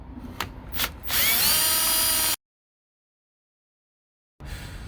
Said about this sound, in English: make sure you drill in a bit and then you pull it out